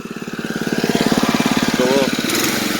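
A small sprayer pump engine is revved up close by, its rapid, even putter rising in pace and loudness before settling into a steady, louder run.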